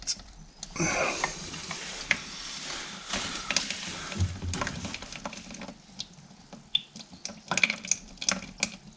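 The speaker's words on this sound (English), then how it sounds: "if you turn it, you can get it so that the water just drops in the bucket or whatever you've got" Water trickles and splashes down into a bucket, a soft continuous pouring with small irregular drips and gurgles, fairly quiet and close.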